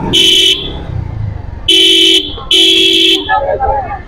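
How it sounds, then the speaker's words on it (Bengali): A motorcycle horn sounds three loud, close honks in traffic on a ride from the Naogaon bypass bridge toward Santahar, with engine and road noise filling the gaps between them. "হর্ন দিচ্ছি তারপরে যাচ্ছে দেখ কি অবস্থা"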